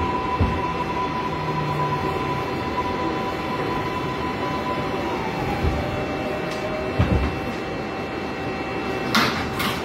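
Interior of a New York IRT 6 subway train heading toward Woodlawn: a steady, close rumble of the car running along the track, with a faint tonal whine and a brief rattling burst near the end.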